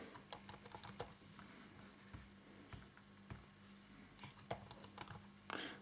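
Fingers tap out a password on an Acer Aspire One D257 laptop keyboard, the keystrokes coming as quick, irregular clicks in short bursts over a low background hum.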